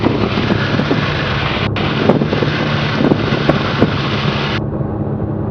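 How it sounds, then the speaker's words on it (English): Gusty wind buffets a small aircraft's microphone at Rockport airfield, a loud, continuous roaring rush with brief surges and dips, and no talk. "Little whippy winds there."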